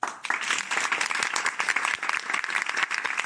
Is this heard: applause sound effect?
yes